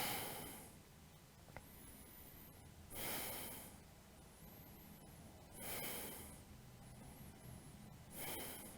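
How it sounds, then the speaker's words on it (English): Slow, deep breaths during a yoga pose, four long airy exhales through the nose spaced about every three seconds, close and quiet, with soft background music between them. "Keep breathing here."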